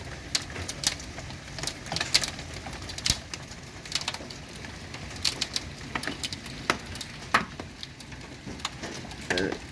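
Hailstones strike window glass during a June hailstorm, a steady patter of scattered sharp ticks and knocks, some louder and closer, over a constant hiss of falling ice.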